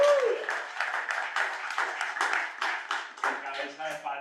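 A church audience claps for the women of the congregation, a sparse, fairly close patter of individual hand claps in an uneven rhythm that thins out toward the end.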